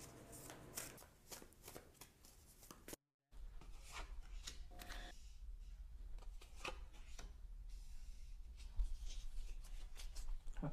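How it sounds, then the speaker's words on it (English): Tarot cards riffled and shuffled repeatedly, a crisp papery rustle with quick bursts, close up and steady throughout, with a brief gap early on. "Give them a few more shuffles."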